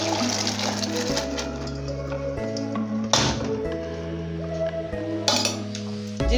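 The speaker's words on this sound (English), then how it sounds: "So I'm going to pour the beans inside." Beans are poured into a cooking pot while preparing waakye, with scattered clinks and taps of pot and utensils and a couple of sharper knocks over a steady background hum.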